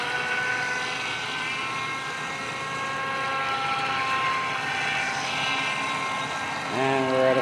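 A DH 7009 RC boat motor whines on a lake, a steady high-pitched buzz that holds fairly constant and then rises sharply near the end as speed picks up.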